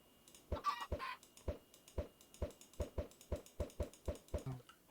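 Video-game chickens cluck while being placed in a Minecraft-style farm, giving a steady run of short, evenly spaced clucks about twice a second, close and clear over a faint background, with no talking.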